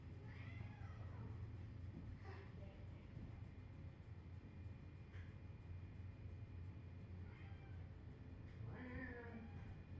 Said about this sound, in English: We got that motherfucking cat.